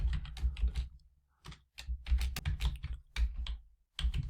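Quick bursts of clicky keystrokes on a computer keyboard come close and clear while code is written in Python, clustered typing separated by short pauses, with no speech.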